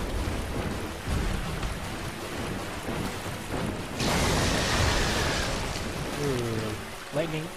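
Thunder and steady rain in the Dark Souls video game, a broad rumbling wash with a louder burst of thunder midway, accompanied by other game sounds and faint voice-like tones.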